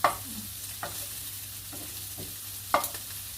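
Shrimp and garlic frying in a pan for fried rice: a steady soft sizzle runs throughout, broken by a few sharp spatula scrapes and knocks against the pan, with the loudest strokes near the start and toward the end.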